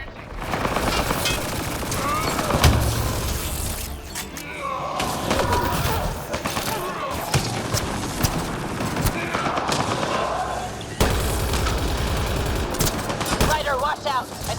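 Automated turrets firing in the sci-fi shooter Mass Effect Andromeda, bursts of rapid gunfire and thuds running almost continuously over a busy combat soundscape, with voices speaking in between.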